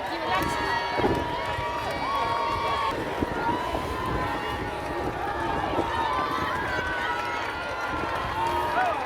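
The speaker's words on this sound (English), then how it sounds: "People screaming, supporting the runners" Spectators cheer and shout for runners at the Brighton Marathon 2022 along the beach, a busy crowd din with scattered whoops and yells, while a person nearby talks over it.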